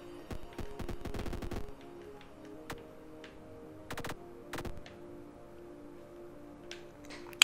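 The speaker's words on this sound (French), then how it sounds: "Oh, les salauds, ils me tirent dessus." Enemy fire in the Void Invaders video game comes as a rapid cluster of sharp shots followed by scattered single blasts, faint and thin over a quiet electronic background hum.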